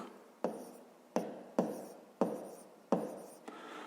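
Pen or chalk strokes mark out a math solution for a fifth-grade division exercise, with five or six distinct scratchy taps in a loose rhythm, close and fairly quiet.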